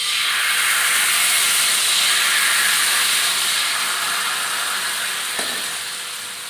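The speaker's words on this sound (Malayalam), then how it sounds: "കലക്കി വെച്ചിട്ട് മാവ് ഒഴിച്ച് കൊടുക്കാം." Batter is poured into a hot, oiled pan and sizzles with a loud, steady hiss that fades slightly near the end.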